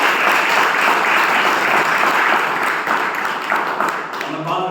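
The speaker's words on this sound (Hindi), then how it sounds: "ताली।" An audience at an indoor meeting claps in a sustained, dense burst of applause for a guest speaker, loud and close, tapering slightly toward the end.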